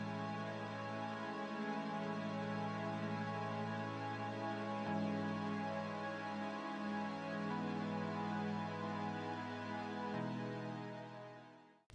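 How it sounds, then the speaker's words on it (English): A stock Logic synthesizer in a metal mix plays sustained, layered tones with steady harmonic stacks and a low register shift midway, continuous and loud for about twelve seconds with no talking. "I also have a synthesizer here, which is a stock Logic synth, which sounds like this."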